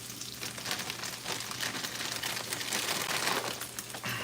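A plastic hash brown package being torn open at the marked tear notch gives a close, continuous crinkling and ripping rustle lasting a few seconds, over a faint low hum.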